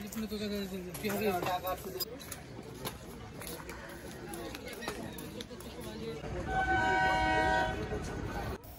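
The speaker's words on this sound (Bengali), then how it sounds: "এই যে ট্রেনটি আসছে" A train pulls into a station near Habra with a low rumble and clatter, then sounds a long, steady horn blast near the end while a person talks over the noise.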